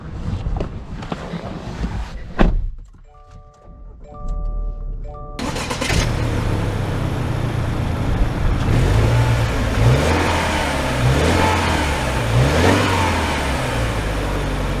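A 2022 Subaru Outback Wilderness engine starts and revs up as the car pulls away, after a short quiet stretch, then a steady loud drone continues with gear-like pitch rises.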